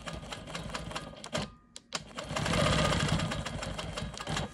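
A Quilt Maker Pro 20 quilting machine stitches a line across a quilt block, a fast steady mechanical needle patter that pauses briefly, then resumes louder and continuous.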